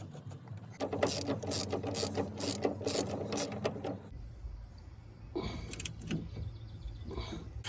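A ratchet wrench tightens the bottom nut on the front end of a John Deere Gator 4x2 during a rebuild, giving rapid, close metallic clicking bursts followed by a pause and a few shorter rounds of clicks.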